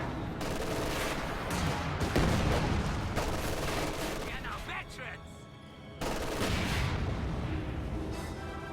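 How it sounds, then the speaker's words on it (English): A pack howitzer fires a high-explosive barrage in a wartime strategy video game, with dense, continuous booming and rumbling blasts overlapping loudly throughout, briefly thinning before another heavy surge. "The pack howitzer takes it out with the high explosive barrage."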